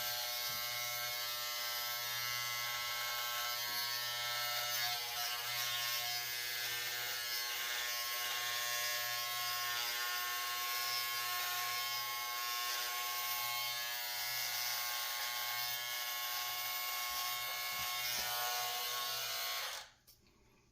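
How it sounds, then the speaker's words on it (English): Electric clippers buzz steadily while shaving down a full beard, a close, constant motor drone with slight changes as they move across the face, cutting off abruptly at the end. "of course that was nice and easy using the clippers"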